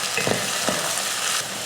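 Bottle gourd with onion, tomato and a little salt sautés in a pan, giving a steady broadband sizzle with a few soft stirring scrapes near the start, close and continuous, with no voices.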